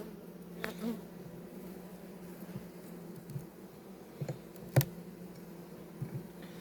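Carniolan honey bees hum at low volume in an opened hive during autumn feeding checks, a soft continuous buzz with occasional faint clicks and knocks of handling, including one sharp tap near the end.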